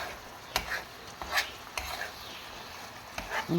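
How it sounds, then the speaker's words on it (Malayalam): Paneer curry with coriander leaves is stirred in a pan, giving several sharp scraping clacks of a spoon against metal over a soft sizzle, spaced irregularly and close by. "മല്ലിയില ചേർത്ത് ചെയ്തു. എന്നിട്ട് നന്നായിട്ട് ഇളക്കി കൊടുക്കുക."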